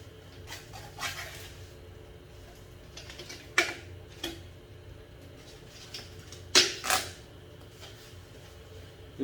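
Plastic exhaust hose of an HY-S600 portable air conditioner pushed into its fitting, giving several faint scattered plastic clicks and snaps, two louder clicks standing out, against quiet room noise.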